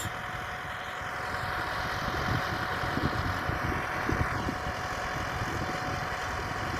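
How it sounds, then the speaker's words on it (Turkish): A Massey Ferguson 3085 tractor with a sprayer runs steadily at a constant low engine drone, close and continuous, with no talk. "ilaç sıkan traktörümüz"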